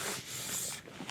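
A small Japanese hand plane with its blade set about half a hair's width out shaves a flat piece of wood, giving a close, steady rasping scrape that runs for about a second.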